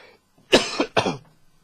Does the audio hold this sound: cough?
yes